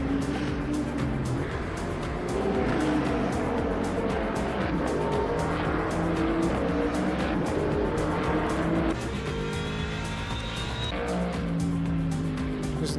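LMP2 race cars in a racing video game roar continuously as several engines overlap, with pitch shifts from passing cars and gear changes, moderately loud and without speech.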